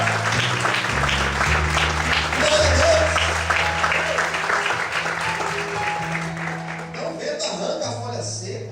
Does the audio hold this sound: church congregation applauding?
yes